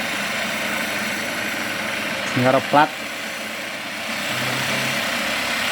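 An electric wood planer fitted with HSS blades runs with a steady, even mechanical whir throughout, while a couple of short remarks are spoken over it partway through.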